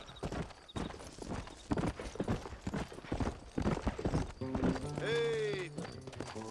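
Horse hooves clop in quick, close bursts in Red Dead Redemption, then a loud, drawn-out whinny rises near the end. Someone talks over the hoofbeats.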